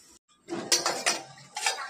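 A metal lid is set down on a cooking pot of chicken curry, giving a few quick clinks and clatters up close.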